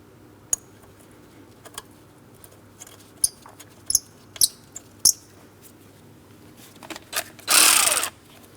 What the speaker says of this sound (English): reinstall your 10mm bolt to make sure it's nice and tight